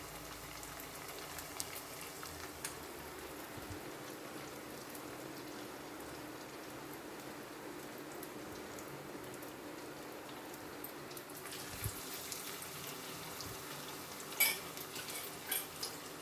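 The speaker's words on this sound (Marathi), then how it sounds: "हळूहळू त्याला तेलामध्ये सोडायचं आणि छान असा शिजवायचा" Methi vadas fry in hot oil as a faint, continuous crackling hiss, with a brief utensil clink near the end.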